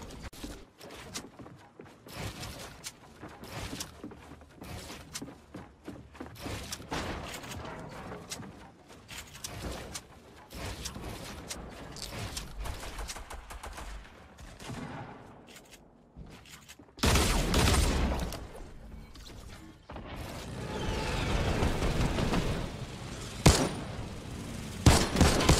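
Rapid gunfire in a Fortnite match, with bursts of shots repeating through the clip and a louder, denser stretch of firing near the end, with no talk.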